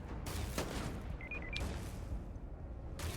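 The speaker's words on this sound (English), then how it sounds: "Why are they shooting me?" Enemy gunfire in the sci-fi video game Starfield, rapid bursts of shots and impacts with short electronic beeps, fairly loud and continuous throughout.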